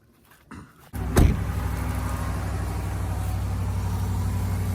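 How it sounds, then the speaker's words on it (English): A Ram 1500 pickup truck engine cranks and catches, then settles into a steady, loud idle rumble close by. "let's go ahead and turn the truck on"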